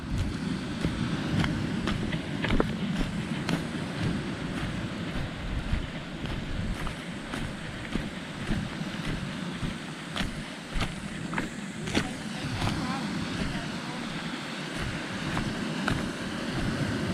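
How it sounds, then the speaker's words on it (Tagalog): Steady broadband roar of rough water and wind rushing past, with repeated thuds and splashes as a boat pounds through strong waves. "Ito, lakas ang alon oh."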